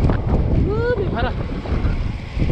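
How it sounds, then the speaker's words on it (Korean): Crosswind buffeting a microphone on a bridge by the sea during a road bicycle ride, a steady loud roar of wind rumble throughout with brief faint tonal sounds in the middle. "다리 위에서는 바람이 축풍도 불기 때문에 조심하셔야 됩니다."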